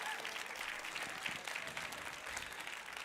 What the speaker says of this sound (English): Now let's go for a big applause.